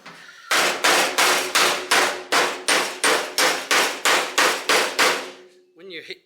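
Twelve loud, evenly spaced metallic blows from a small-headed dome-face hammer on a 1966 Mustang door skin ring out in a steady rhythm, each clang decaying briefly before the next, then a short scrape.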